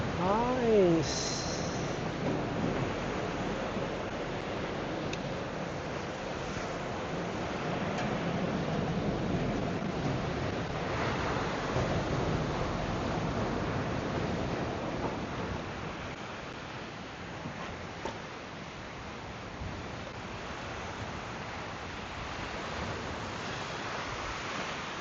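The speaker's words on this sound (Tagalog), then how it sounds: "Lakas ng alon." Strong surf rolls and crashes steadily onto a shore, a broad continuous wash of breaking waves with wind noise across the microphone, and a voice briefly calls out near the start.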